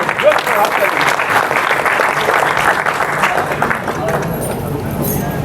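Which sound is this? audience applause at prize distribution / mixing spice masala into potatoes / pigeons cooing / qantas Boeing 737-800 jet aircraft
audience applause at prize distribution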